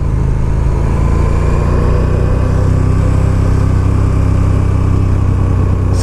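A 2019 KTM 1290 Super Duke R engine runs loud and close, a steady deep drone throughout with no voices.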